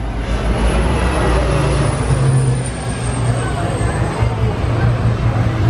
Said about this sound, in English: Oh my gosh, look at that plane.